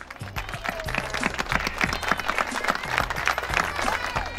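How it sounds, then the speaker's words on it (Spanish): Enthusiastic applause from a crowd at a community outreach event welcoming a foundation president, loud and dense clapping mixed with thumping and shuffling, steady throughout. "el licenciado Jesús Alberto Canoveles, para el cual pido un fuerte aplauso."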